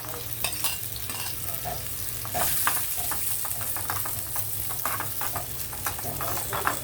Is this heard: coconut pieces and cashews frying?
yes